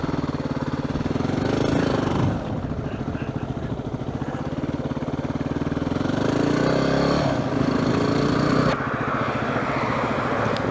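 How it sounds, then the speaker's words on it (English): A motorcycle with a sidecar rides past at a riverside spot in Fairbanks, Alaska, its steady engine drone rising and falling as it nears and moves away, loud and continuous throughout with no speech. "Here goes a bike with a sidecar."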